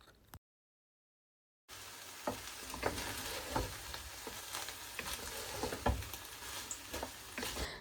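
Leftover food reheating in a pan sizzles steadily and close by, with small crackles and pops throughout after a brief silent gap at the start.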